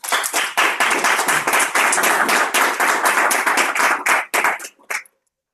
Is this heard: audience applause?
yes